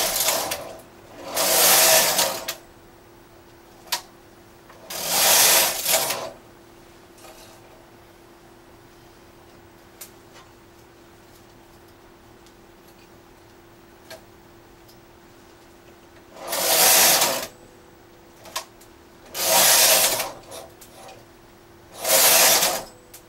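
A knitting machine working a zig zag fabric, its carriage sweeping across in several loud whirring, rattling passes with mechanical clicks and quiet gaps between runs.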